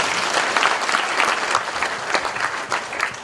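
Audience applause at an outdoor launch ceremony for a committee opposing THAAD deployment in Seongju, South Korea, dense sustained clapping from a sizeable crowd, loud and even throughout.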